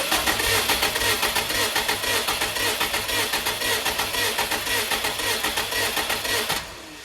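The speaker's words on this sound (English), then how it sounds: "let's turn this over and see what cylinder 4 looks like" Rhythmic starter-driven cranking of a 2003 Subaru WRX engine spinning over during a compression test, an even rapid chugging pulse for several seconds, loud and close, then cutting off abruptly near the end.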